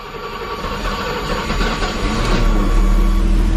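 Engine of a 1982 BMW 633csi E24 running, a steady loud low rumble that builds slightly toward the end, with no talking.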